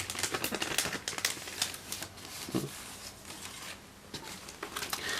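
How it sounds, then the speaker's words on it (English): Tape is peeled slowly off a taped trading card package, making close, dry crackles and ticking snaps in uneven bursts. "I'm going to be really careful and not damage the card, and just peel open"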